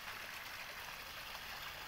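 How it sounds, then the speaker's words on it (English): Water flows steadily through a backyard pond and river system, a soft continuous trickling wash heard faintly in the background without pauses. "the water you hear in the background is my river system"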